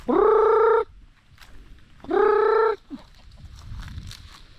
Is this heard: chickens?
yes